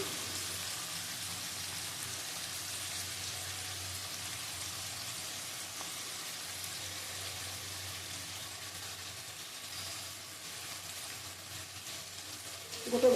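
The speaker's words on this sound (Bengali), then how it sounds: "ভালো করে ভেজে নেব একটু চিনি দেবো কালারের জন্য" Mutton pieces fry in a pan with a little sugar added for colour, giving a steady, dense sizzle like light rain that holds evenly throughout, with a brief clatter at the very end.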